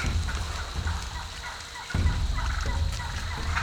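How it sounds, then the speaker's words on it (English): Several wild turkeys gobble repeatedly in rolling bursts, some near and some farther off, over an outdoor background. "These turkeys everywhere around me."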